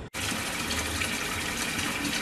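Water gushes and sloshes in a sink filled for leak-testing a 9point8 Fall Line bike dropper post, a steady, close rushing sound that starts abruptly and continues without pause.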